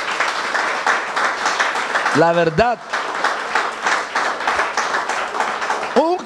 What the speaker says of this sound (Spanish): esto honestamente amerita un aplauso al Señor